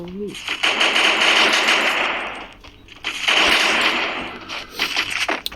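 An M60 machine gun in a video game fires two long rapid bursts, loud and close, with a short pause between them and a voice briefly heard.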